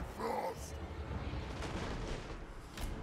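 Cannon fire rumbles through a battle in the strategy game Total War: Warhammer 2, low booming thuds rolling continuously under a dense, noisy mix.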